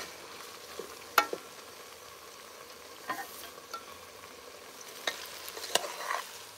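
Peppers are sautéed in a pan outdoors in a backyard garden for a Jamaican snapper dinner, a faint low sizzle broken by scattered scrapes and clicks of a utensil stirring.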